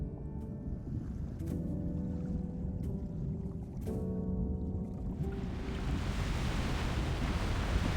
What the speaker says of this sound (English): It's the waves. They're just too strong.